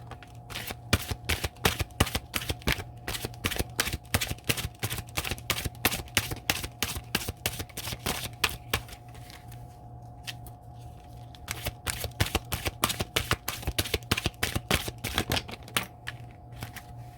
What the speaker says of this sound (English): So let me pull some of these Romance Angels cards.